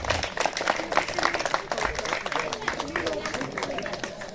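Audience clapping for a white Mercedes convertible at a retro car show concours d'élégance, scattered applause under a voice addressing the crowd.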